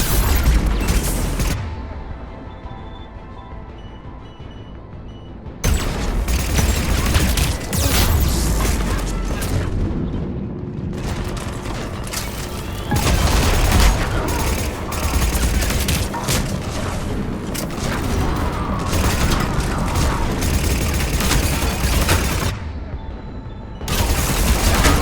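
Heavy booming cannon fire and rapid bursts of shots roll on continuously in Mass Effect 3 Legendary Edition, loud and close, with brief gaps between barrages amid game-like battle noise.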